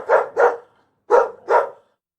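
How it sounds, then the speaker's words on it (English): A dog barks four times in two quick pairs separated by a short pause. The barks are loud and close, with no other sound around them. "Dog dog."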